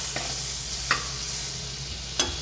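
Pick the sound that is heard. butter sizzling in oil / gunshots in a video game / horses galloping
butter sizzling in oil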